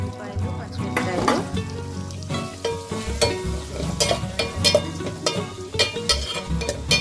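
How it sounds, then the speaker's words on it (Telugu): Two onions and five green chillies fry in hot oil with a busy, close sizzle and frequent clattering stirs and scrapes of a utensil against the pan. "నేను 2 ఉల్లిపాయలును 5 పచ్చిమిరపకాయలు వేసాను. ఇదంతా చక్కగా వేగిపోవాలి."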